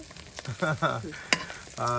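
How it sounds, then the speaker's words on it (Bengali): Eggs frying in a pan during home cooking, a steady close sizzle with bursts of spattering, a sharp crackle near the middle and louder frying toward the end. "দেখুন ডিম ভাজা প্রায় শেষ"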